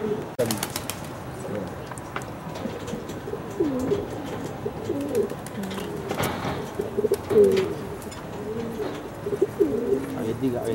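Pigeons cooing repeatedly in a loft during a homing pigeon release, soft rolling coos close by under someone talking, with a brief wing flap.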